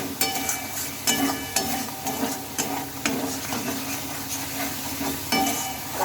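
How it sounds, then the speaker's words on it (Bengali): Spice paste fries in oil in a wok, its steady sizzle broken by a regular rhythm of scraping spatula strokes, about one stir per second, close and clear with no talking. "আমরা একটু ভালোভাবে নেড়ে চেড়ে নেবো মশলাটা আর দেখো মশলাটা বেশ কিন্তু আমার কষানো হয়ে এসেছে যেহেতু এটা থেকে তেল ছেড়ে দিচ্ছে"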